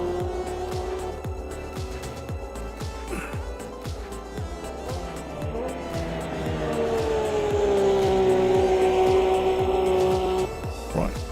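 Porsche GT3 race car engine in a sim racing game, revving hard through repeated rapid upshifts with rhythmic pulses, then a long rising high-pitched wail as it accelerates, loud and close throughout with faint tire squeal.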